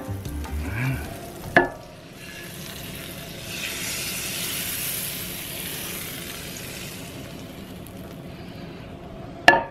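A tablespoon of butter sizzling in a non-stick pan at medium-high heat, a steady close crackle and hiss lasting several seconds, framed by a sharp knock near the start and another at the end.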